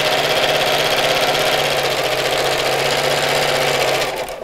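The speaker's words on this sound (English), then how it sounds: "And then we'll sew around the rest of the bag." A sewing machine runs steadily around the edges of a fabric Christmas gift sack, a loud, close, continuous rapid whir that stops just before the end.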